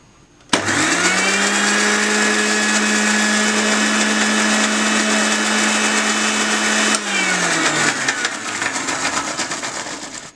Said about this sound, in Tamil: இதை மிக்சி ஜாரில் போட்டு அரைச்சிக்கணும் இது கூட எடுத்து வச்சுருக்க அதி மதுரத்தையும் போட்டு அரைச்சிக்கலாம்